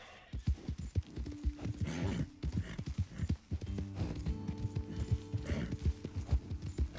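Horse hooves clip-clopping in the Red Dead Redemption 2 video game, a close, rhythmic run of sharp hoof strikes at a walking pace, with brief snorts and soft game music humming underneath.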